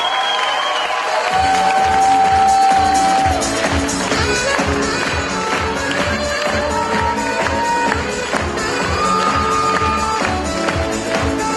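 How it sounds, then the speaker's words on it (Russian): An audience at a KVN comedy event for Knowledge Day claps and cheers for the second-place team, a dense, loud wave of applause that carries on steadily with music tones above it. "Все свои, ваши аплодисменты."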